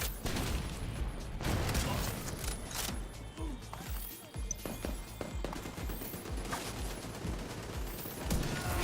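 Continuous gunfire from The Division 2 during an exotic-build session, with dense, overlapping shots and mechanical clatter running steadily throughout at close range.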